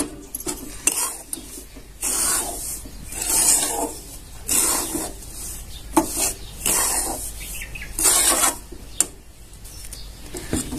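Spoon or spatula stirring powdered sugar into a thick sabudana barfi mixture in a metal pan, a steady run of scraping, rasping strokes repeating in uneven rhythm, close and fairly loud, with no talking.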